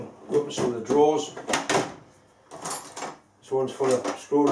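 A workshop drawer is pulled open, a wooden or metal slide and clunk heard close, with someone talking over and around it.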